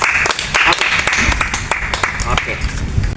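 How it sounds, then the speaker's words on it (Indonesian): A group of students in a physical education fitness class claps together, the brisk applause running steadily through the short stretch with a voice speaking over it. "Kita kasih tepuk tangan dulu."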